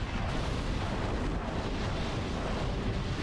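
Shot cannon fire from the Ratchet and Clank 3 (Up Your Arsenal) video game: a dense, steady roar of blasts and explosions that fills the whole clip at an even, loud level, with no talking.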